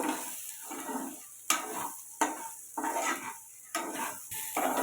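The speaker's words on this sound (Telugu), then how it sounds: "సాల్ట్ వేసుకొని ఒకసారి ఇలా కలుపుకుందాము" Repeated scraping strokes of a spoon stirring ivy gourd pieces with salt in a pan, with a soft sizzle underneath and occasional metallic taps, close and rhythmic.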